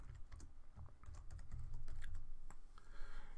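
Fast typing on a computer keyboard while renaming a step in CAD software, a dense run of light, close key clicks at a low level with no talking.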